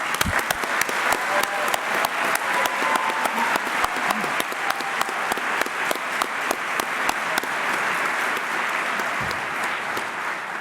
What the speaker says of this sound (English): Let's take a moment to congratulate these graduates with our applause.